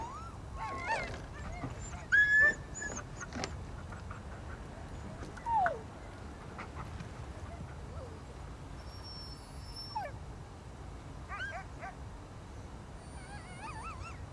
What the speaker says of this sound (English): these puppies are also waiting